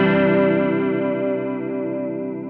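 Guitar chord through a Walrus Audio Julia analog chorus pedal set half dry and half vibrato, a single ringing strum with a gently wavering, shimmering sustain that slowly fades, no talking.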